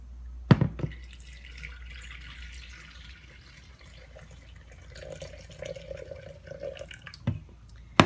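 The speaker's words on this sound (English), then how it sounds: "the coffee's brewed, so I'm just going to plunge it, pour it into the Thermomix." Brewed plunger coffee poured from a press into a Thermomix, a soft continuous liquid trickle with a few sharp clinks and knocks near the start and end, close and quiet.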